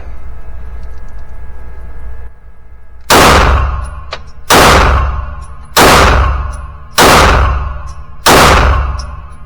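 Five loud, close gunshots from a Canik METE SFT pistol, fired at an even pace about one and a half seconds apart, each a sharp crack with a ringing decay, no talking.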